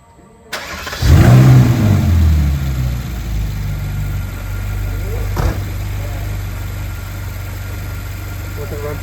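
A Ferrari engine cranks and fires during power steering service, flaring loudly at startup and then settling into a steady, close idle, with a brief sharp knock partway through.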